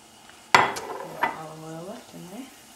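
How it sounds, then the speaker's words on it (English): Onions and peppers sauteing in olive oil over low heat, with a sharp clank of a utensil against the pan, then softer scraping and stirring and a faint sizzle underneath. "going to saute your onions and pepper and your olive oil with the rest of your spices"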